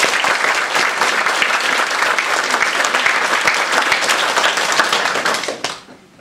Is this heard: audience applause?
yes